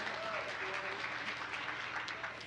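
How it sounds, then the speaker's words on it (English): Sustained applause from an audience, a dense wash of clapping holding steady throughout, moderately distant. "Let's give her a round of applause"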